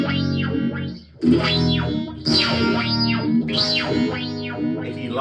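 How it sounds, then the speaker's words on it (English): Electric guitar through a Tone City Summer Orange phaser pedal with depth and rate turned high, sweeping in deep, fast whooshing cycles over sustained distorted chords, loud and close. "Let's put the depth and the rate around 3 o'clock, see what we get."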